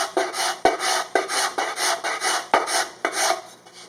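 Repeated rasping strokes of sanding or filing on a wooden part, about eight rhythmic passes close up with short pauses and a couple of sharp knocks between strokes, no voices.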